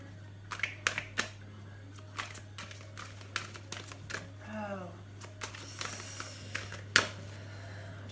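Oracle cards are shuffled by hand in a series of brisk papery flicks and taps, spaced irregularly over a constant low hum, with someone speaking softly between them.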